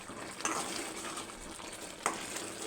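Tomato paneer curry with masala is stirred in a pan, a spoon scraping and clinking against the pan over a steady soft sizzle, with a couple of sharper knocks.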